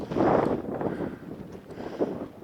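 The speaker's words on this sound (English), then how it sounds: "it's getting windy and cold up here" Gusty mountain wind near Kyanjin village in Langtang, Nepal, buffets the microphone with a broad, rough roar, strongest in the first second, easing, then swelling again briefly near the end.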